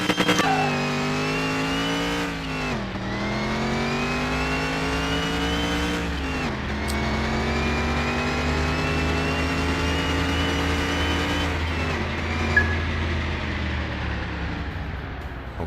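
A supercharged race car in a Car Mechanic Simulator 2021 drag race revs hard and climbs through several gear shifts, its loud engine tone rising steadily and dropping briefly at each change, heard alone without talk.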